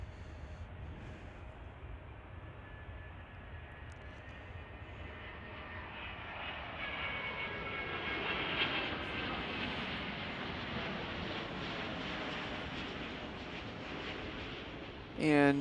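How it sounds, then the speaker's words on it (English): British Airways airliner arriving at Chicago O'Hare airport from London Heathrow, its jet engines growing from a distant rumble to a louder roaring pass over about fifteen seconds, with a sudden loud noise right at the end. "coming in with the surprise is British Airways Flight 297 from London Heathrow"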